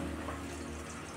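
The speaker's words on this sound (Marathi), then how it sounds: "भात आपण एक चाळण घेतली आहे आणि खाली एक पातेलं घेतलंय। आता ते भात आपण काढून घेऊ" Water and cooked biryani rice pour through a metal colander into a pot below, a brief steady rushing splash at moderate level with no voices.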